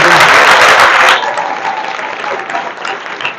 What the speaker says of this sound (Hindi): अब आप जोरदार तालियां बजा सकते हैं।